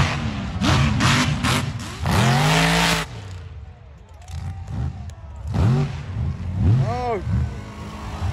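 Mud trucks at a mud ranch park rev hard during freestyle burnouts and donuts, with loud engine roars that rise and fall in repeated surges and brief lulls between them.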